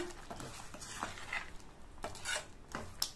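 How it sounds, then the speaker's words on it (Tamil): A metal spoon scrapes and clinks against a pot of brinjal curry with black-eyed peas in irregular strokes, with soft stirring sounds between the taps. "தட்டைப்பயிறு சேர்த்து நல்லா ஒரு தடவை மிக்ஸ் பண்ணி விட்டுறலாம்."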